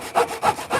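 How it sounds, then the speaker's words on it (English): Three rhythmic rasping strokes of the serrated saw spine on a titanium-bonded high carbon steel knife blade cutting through wood, each pass loud and close, evenly spaced with no talk. "that rasp on the back. That's like a saw"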